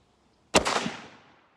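A single sharp rifle shot from a Remington 1917 sporter rifle chambered in .30-06 Ackley Improved, a loud close crack after a moment of silence, followed by a rolling outdoor echo that fades over about a second.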